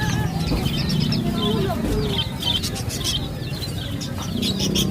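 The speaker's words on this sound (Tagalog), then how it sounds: "May ibon dito." Birds chirp and call repeatedly over a steady outdoor background, with a low cooing or clucking sound mixed in nearby.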